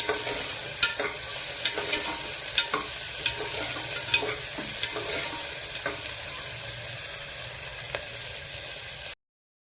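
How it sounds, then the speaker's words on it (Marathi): Onion sautéing in a hot pan for a Maharashtrian mutton recipe, a steady bright sizzle with scattered stirring clicks and scrapes at irregular intervals, close and moderately loud throughout, with no voices. "कांदा छान परतून घ्यायचा आहे, सोनेरी रंग येतो"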